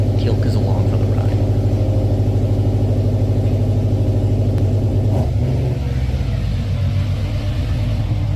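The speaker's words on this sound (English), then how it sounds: "Sorry, the car's exhaust got in the way" Car exhaust droning loudly while driving, a deep steady rumble with low pulsing engine tone, close and continuous, easing slightly near the end.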